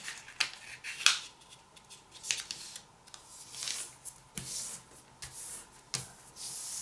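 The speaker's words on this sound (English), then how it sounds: "Fold it in half." A sheet of paper being folded in half for an origami ninja star, with crisp rustles and sharp creasing swipes in scattered strokes, close and fairly quiet.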